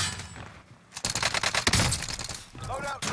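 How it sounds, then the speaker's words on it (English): Hostile gunfire in the video game Rebirth: a dense, loud volley of rapid automatic shots bursting in after a second of quieter game sound, then easing off, with no talk. "Hey, they're targeting you. Hostile fire!"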